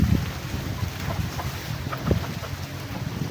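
Strong wind blows steadily around a damaged, tilting house, a loud continuous rush with low rumbling gusts across the whole stretch and no voices.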